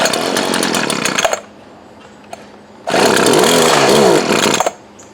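Twenty-year-old Poulan Pro hedge trimmer with a small gas engine, worn and running after being choked, roaring loudly up close in two surges with a lower idle between them, running rough and cutting off at the end.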